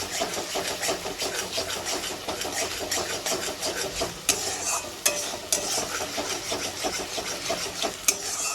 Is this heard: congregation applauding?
no